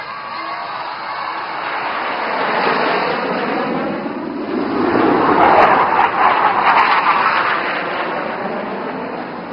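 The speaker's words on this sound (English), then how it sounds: "these 4 aircraft will cross each other right in front of you to present the barbed wire cross." Four aircraft crossing in front of the crowd during an IAF flying display at Aero India 2025, a broad engine roar that swells as they pass, fairly steady and moderately loud.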